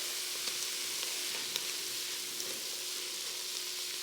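Minced garlic sautés with onions and celery in melted butter, a steady soft sizzle with faint crackles and a low hum underneath, close and continuous with no talking.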